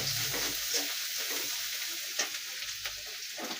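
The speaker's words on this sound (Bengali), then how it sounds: "পেঁয়াজ মরিচটাকে ভালো করে ভেজে নেব।" Onions and green chilies fry in a pan for a papaya and fish curry, a steady close sizzle with faint stirring scrapes throughout.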